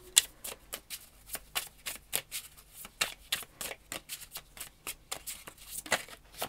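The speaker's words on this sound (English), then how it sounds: "Just get another shuffle because that was quite a bad shuffle." Tarot cards are shuffled by hand, a rapid run of crisp riffling flicks repeated in quick, uneven bursts, close and fairly quiet.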